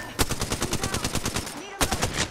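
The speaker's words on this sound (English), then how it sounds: "Getting shot at." Rapid bursts of automatic gunfire in the Apex Legends battle royale game, a dense rattling volley for well over a second, a brief pause, then another close, loud burst.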